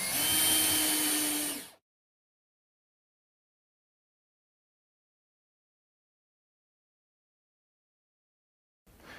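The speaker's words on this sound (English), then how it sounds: "Take your screw gun here and just simply screw that into the backing of the slate" A power screw gun whirs briefly up close, driving a screw into the wooden backing of a pool table's slate, then cuts off into silence with a short burst of motor noise returning at the end.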